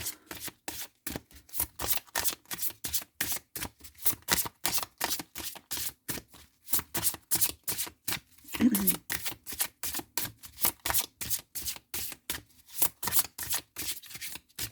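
Tarot cards are shuffled by hand in quick repeated riffling bursts, crisp and close, with a soft thud of cards landing partway through; a voice speaks quietly between the shuffles.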